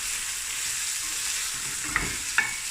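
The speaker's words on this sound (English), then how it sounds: "And now we're just going to fry this and stir occasionally for about 10 to 12 minutes." Stewing lamb pieces fry in a pot with a soft, steady sizzle, broken by two sharp clinks of a utensil stirring against the pot near the end.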